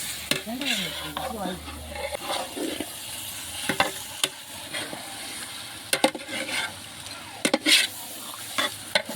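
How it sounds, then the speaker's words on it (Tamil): Meat tossed into sizzling masala for seeravaga samba biryani, stirred with steady scraping strokes over a constant frying hiss, with sharp spoon-on-pot clacks scattered throughout. "கறியை போட்டாச்சு நல்லா கிண்டிடுவேன்"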